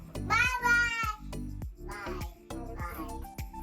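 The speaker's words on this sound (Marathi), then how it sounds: "ही माऊ ही." A cat meows several times in a parking area, loud and close, the calls separated by short pauses and accompanied by soft clicks.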